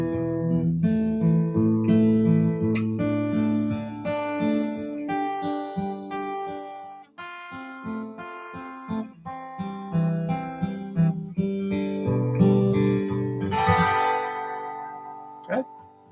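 An acoustic guitar plays a fingerpicked example, with plucked notes and bass lines ringing clearly and alone for about sixteen seconds. It ends with a quick thumb rake across the strings, a bright strum near the close.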